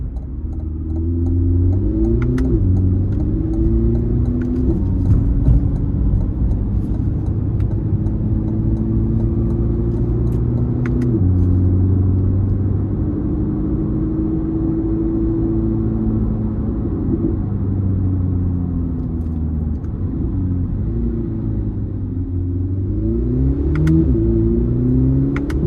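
A 2026 Chevrolet Corvette ZR1 3LZ running in Z mode in traffic, its engine note a steady loud rumble heard from inside the car, rising and falling through repeated gear changes and moderate throttle blips.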